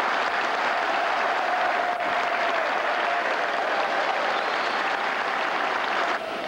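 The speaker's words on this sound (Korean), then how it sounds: "우레와 같은 박수와 환호가 터져나왔다" A large audience at a Seoul rally breaks into thunderous, sustained applause with cheering, a dense, even roar of clapping that holds steady throughout.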